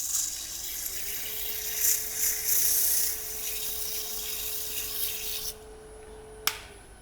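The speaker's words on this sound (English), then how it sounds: "I'm just going to hit it real quick with a little bit of sandpaper" Sandpaper rubs against the edge of a spinning wood-turned platter on a lathe, a soft steady hiss over the motor's constant low hum, with a few louder scuffing swells before the sanding stops and a brief tap near the end.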